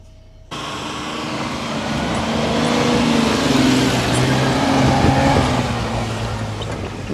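Off-road vehicle driving through fresh snow on a winter trail, engine starting abruptly and holding a loud, close, steady drone that rises gently and then eases with continuous rumble beneath.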